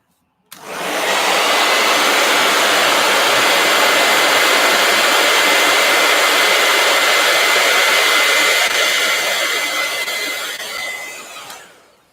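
A heat gun blows a steady, loud rush of hot air for about eleven seconds during a coloring session, starting abruptly and fading off at the end, with no talking.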